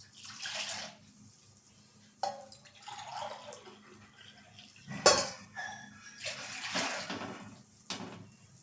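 Water poured from glasses into a metal pot on a gas stove, with close clinks and knocks of the vessel and a few short splashing bursts, fairly quiet, no talking.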